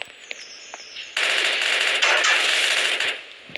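An automatic gun in a video game fires a long rapid burst after a short quiet lead-in, loud and dense with a steady rattling rhythm before cutting off abruptly.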